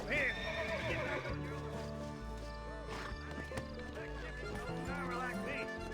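A horse in Red Dead Redemption whinnies loudly at the start and again near the end, with hooves clopping and a low rumble between, while people talk throughout.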